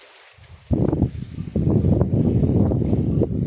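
Low, rumbling gusts of wind buffet the microphone beside floating fish cages on a canal, starting after a quiet moment and continuing in uneven bursts.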